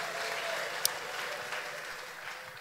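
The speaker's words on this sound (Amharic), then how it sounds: "ከፍ ያለ እልልታ ጭብጨባ ለጌታ ክብር" Crowd applause with ululation fills a church youth department's 50th anniversary celebration in Hosaena, a steady dense roar of clapping and trilling voices from start to finish.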